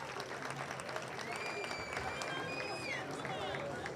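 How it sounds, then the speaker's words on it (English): A crowd at a high school ribbon cutting ceremony at James Monroe High School claps, with cheers and whoops rising through the sustained applause. "Let's give them a round of applause."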